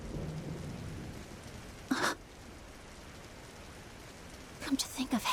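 Rain in the video game Trails in the Sky, a steady soft wash of rainfall throughout, with a couple of brief louder bursts standing out against it.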